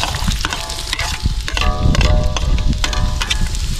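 Onions sautéing in a home frying pan give a steady, close sizzle with scattered sharp crackles and a few short clinks of a utensil stirring, with no voices over it.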